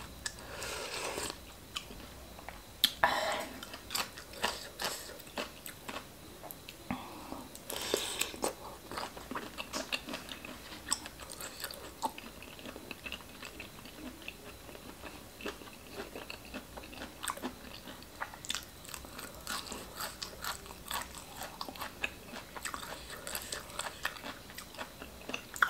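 Someone eats spicy pounded khanom chin salad with fermented fish and fresh shrimp, with steady close chewing, crunching bites and wet mouth sounds running continuously, no talking.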